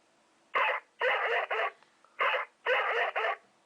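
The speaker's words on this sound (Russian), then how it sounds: "Собака." A toy dog barks in two groups of three, loud and close, with a slightly electronic, boxy tone and short pauses between the groups.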